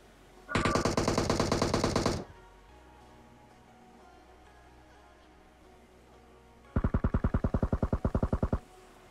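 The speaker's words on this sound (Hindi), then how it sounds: "इसने भी फायर किया।" Automatic gunfire in the battle royale game PUBG, two loud sustained bursts of rapid shots, one early and one near the end, separated by quiet in-game ambience.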